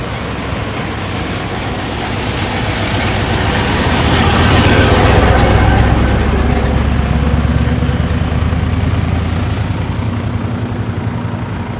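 A truck engine runs at a rural pig pickup site surrounded by grass, a steady low rumble that swells louder midway as it draws nearer, then eases slightly.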